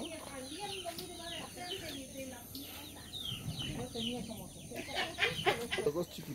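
Chicks and chickens clucking and cheeping on a countryside farm beside cattle pasture, with steady close chatter and some rooster-like calls, and a person talking under the birds.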